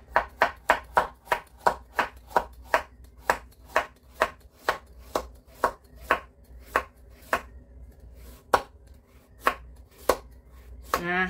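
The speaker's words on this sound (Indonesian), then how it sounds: "Nah, sekarang Mbak Putri mulai merajang wortelnya dulu ya" A knife chops carrots on a cutting board in a steady, fast rhythm of sharp, close strikes, easing into slower, spaced cuts toward the end.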